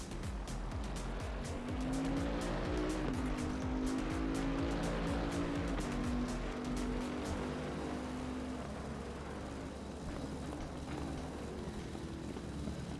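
A race car in Assetto Corsa Competizione laps Zandvoort in an Am-class race, its engine roaring continuously with rising and falling pitch through gear changes, loud and near, then easing as it moves away.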